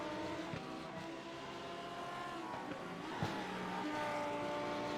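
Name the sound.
GT3 race cars driving at Charlotte Roval in racing video game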